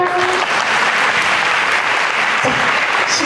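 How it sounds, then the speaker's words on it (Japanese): Audience applause closing a Japanese web radio talk show, a steady dense wash of clapping filling the whole stretch at close range, with no voice over it. "皆さんも聞いてくださって、拍手してくださってありがとうございました。"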